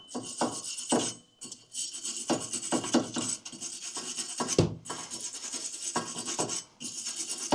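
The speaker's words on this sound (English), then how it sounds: "Next, we're gonna hit this with a steel brush." Steel wire brush scrubbing the hub face of a rear brake rotor on a Honda Civic, a close, steady rasping scrape in quick repeated strokes with a few brief pauses and no talking.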